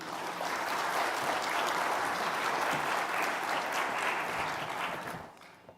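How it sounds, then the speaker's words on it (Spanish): A conference audience at the RRS Summit 2026 claps warmly to welcome a speaker, dense steady applause holding loud for about five seconds before quickly fading out. "Por favor, recibamos a Alfonso con un aplauso."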